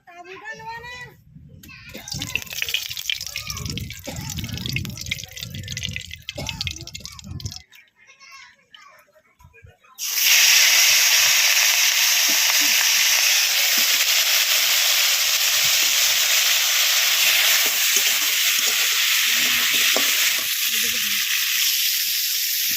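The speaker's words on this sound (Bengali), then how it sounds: "এবার মাছগুলো ভেজে নেবো কড়াইতে সরিষার তেল দিয়ে দিচ্ছি" Prawns fry in mustard oil in a wok with a steady, loud sizzle that starts abruptly and fills the second half, after a stretch of background voices and kitchen noise.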